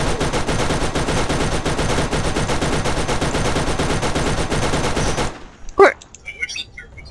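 Rapid sustained turret gunfire in the video game Borderlands hammers loudly for about five seconds, then cuts off, followed by a few scattered impact and effect sounds, with a voice talking over it.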